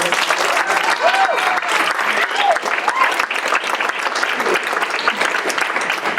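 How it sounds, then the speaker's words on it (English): Lively audience applause at a poetry reading, a full burst of clapping from a roomful of people with a few whoops and voices rising through it. "can I ask everybody to give a quick round of applause"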